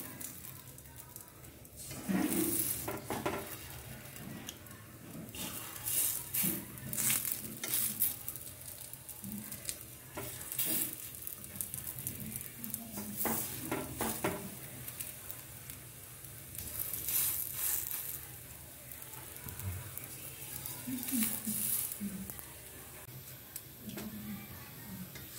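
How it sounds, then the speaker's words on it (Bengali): Vegetable-packed kids' snacks sizzling in a lightly oil-brushed kadai, a steady crackling fry with scattered ticks and soft scraping as pieces are set down, continuous and close throughout. "কড়াইতে আমি হালকা তেল ব্রাশ করে দিচ্ছি। আমি স্ন্যাক্সগুলো এইভাবে বসিয়ে দেব।"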